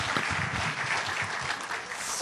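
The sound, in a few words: audience applause at church camp forum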